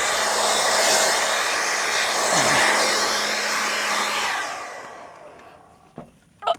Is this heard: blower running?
yes